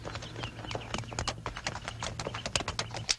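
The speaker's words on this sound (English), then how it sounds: "Bill spotted the bandits' horses." Radio drama sound effect of horses' hooves clip-clopping in a quick, steady trot, a dense run of sharp knocks throughout with a low hum underneath, set in a 1951 Wild Bill Hickok western adventure.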